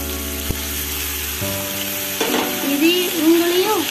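Tomatoes fry in a pan for Yippee noodles with a steady, close sizzle, a sharp knock of stirring early on, and a faint whistling tone rising near the end.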